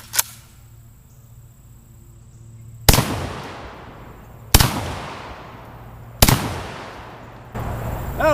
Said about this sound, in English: the JTS M12AK is a blast to shoot